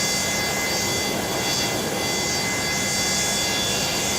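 Boeing 727-200F jet engine spooling up during start in a flight simulator game, a steady, loud broadband roar with a thin high whine held throughout and no talk.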